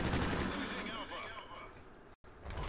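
Rapid bursts of ARX-160 rifle fire in a video game crackle loudly and densely, cut by a brief gap near the end, with a player talking over the shots.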